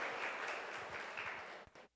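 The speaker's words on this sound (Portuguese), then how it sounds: "Palmas para elas," Crowd applause at a talk on autism and disabilities, a faint, steady wash of clapping that drops out abruptly near the end.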